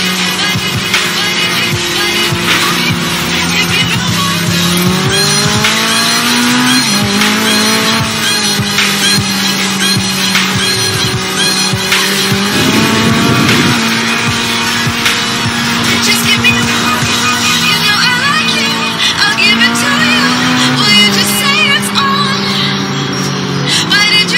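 Ferrari 488 GTB engine in Forza Horizon 3 drones and shifts pitch as it accelerates and decelerates, with tire squeal and skidding mixed in, loud and continuous for over twenty seconds.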